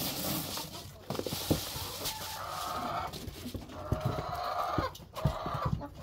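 Chickens cluck and murmur inside a backyard coop housing brown and white layers, including a Brahma, with several close, overlapping calls rising and falling against a busy, rustling background.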